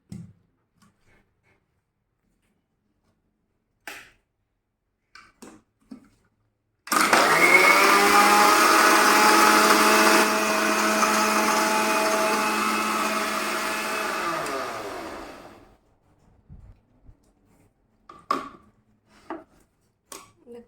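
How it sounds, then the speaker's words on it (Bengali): A kitchen blender whirs loudly for about eight seconds, blending mango shake ingredients with two spoons of sugar, a steady motor drone bracketed by scattered clicks and taps before and after. "উপকরণগুলোকে আমি ব্লেন্ড করে নেব ভালোভাবে।"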